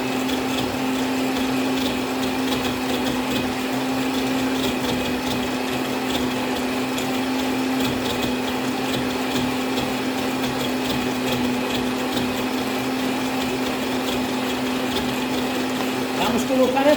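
Electric mixer steadily beating birthday cake batter in a bowl, a continuous loud motor whir with a constant hum holding for the whole stretch, ending in a brief rattle.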